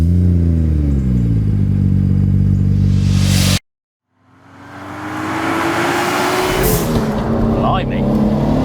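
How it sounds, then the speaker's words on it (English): A BMW B58 inline-six, Stage 2 Plus M140 spec, fitted in an E46 318i Touring, idles loudly up close, cuts out, then fires back up and settles into a steady rumbling idle with rising revs. "we'll get it fired up, get that B58 running"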